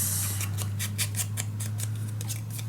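Scissors snipping paper for a scrapbook page, a quick run of about a dozen short crisp cuts in steady rhythm, close and clear over a constant low hum.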